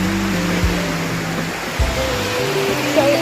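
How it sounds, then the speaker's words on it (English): A waterfall is crossed on a wet mountain path while climbing the UK's tallest mountain; a loud, steady broadband rush of falling water runs close by throughout, with low rumbling underneath. "So we're just crossing the waterfall."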